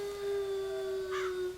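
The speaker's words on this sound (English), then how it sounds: "wait till you actually hear the wolf howl." A single drawn-out wolf howl from The Legend of Zelda: Ocarina of Time holds a steady, clear pitch, faint and slightly electronic-sounding, with a brief waver near the end.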